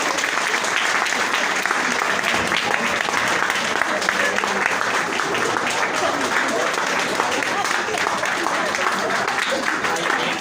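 An audience bursts into loud, sustained applause to welcome a politician in a comedy skit, dense continuous clapping with crowd noise throughout.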